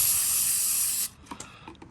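A loud, steady hiss comes from an aerosol spray can used to clean under a vehicle during an oil change. It lasts about a second, then cuts off, followed by a few faint clicks and handling noises close by.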